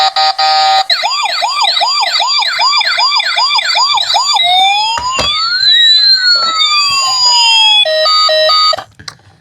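A loud siren wails close by, first a rapid repeating yelp, then long sweeping tones in several pitches, then a short stuttering pattern before it cuts off.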